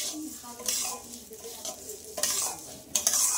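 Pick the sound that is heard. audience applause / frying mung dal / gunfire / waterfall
frying mung dal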